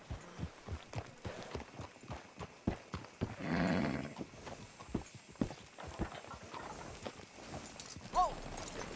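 Steady clip-clop of horse hooves on a hard surface in Red Dead Redemption 2, close and regular, with a brief louder burst in the middle and a faint whinny near the end.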